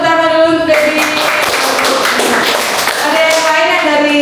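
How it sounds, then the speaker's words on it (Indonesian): Classroom applause, a burst of hand clapping from a group of students in a micro-teaching lesson, lasting a couple of seconds between stretches of a teacher's voice. "Ya tepuk tangan dulu untuk Debbie"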